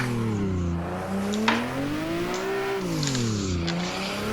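A car's engine revs hard and steadily, its pitch dipping and climbing as it drifts out of a jump at Ebisu Minami, with brief tyre squeals, heard close and loud without talk.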